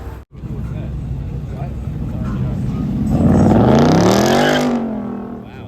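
A BMW M2 accelerating hard past while leaving a car meet, its engine note climbing loudly and sweeping up in pitch as it passes close by, over a steady background roar of traffic.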